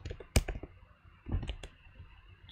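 Keys tapped on a computer keyboard while typing, a few crisp close clicks in two short clusters with quiet gaps between.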